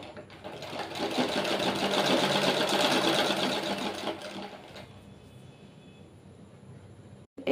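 A sewing machine stitching a blouse, its motor whirring in a loud steady run for roughly four seconds before stopping, followed by quieter handling noise and a sharp knock at the very end.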